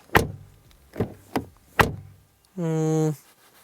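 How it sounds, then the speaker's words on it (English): Several sharp knocks or thuds at intervals, then a short steady tone; a Volvo V60 Cross Country door shutting may be among the impacts, with no talking. "door closing sound"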